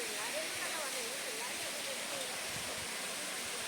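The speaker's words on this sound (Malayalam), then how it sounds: "ഇവിടെ നിന്ന് ഇങ്ങനെ ഒഴുകി പോവാണ് വെള്ളം," Water pours down rocky ledges below a dam and waterfall in a forested gorge, a steady broadband rushing hiss heard from a distance, with a voice talking softly over it.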